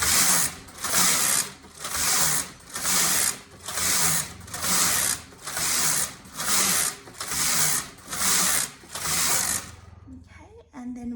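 A Brother KH836 knitting machine carriage knitting rows of stockinette makes about ten even passes, each a loud rasping whoosh followed by a short pause, close up, then stops near the end with brief faint handling sounds.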